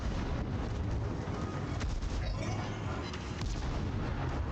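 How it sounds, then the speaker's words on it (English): Naval gun salvos from a Des Moines Tier 10 American cruiser in World of Warships, Northern Waters map, with dense booming fire and rumble continuing throughout at steady loudness and no speech. "Well aimed salvos"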